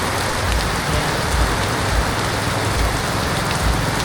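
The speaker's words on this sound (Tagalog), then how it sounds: "Lakas ng ulan, sobrang lakas." Heavy, dense rain pours down steadily in a loud, unbroken roar of drops hitting surfaces, with no voices.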